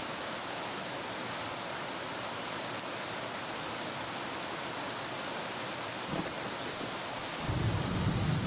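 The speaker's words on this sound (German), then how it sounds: "Schon ein heftiges Gewitter." A heavy thunderstorm in the survival video game Escape the Pacific, a steady wash of rain-like rushing noise with a low rumble swelling near the end, with no talking.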